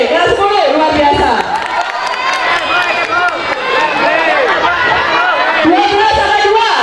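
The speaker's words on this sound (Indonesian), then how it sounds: "Tepuk tangan untuk RPL" Students at a school debate for student council president cheer and applaud for their class, with shouting voices, clapping and crowd noise all running together loudly throughout.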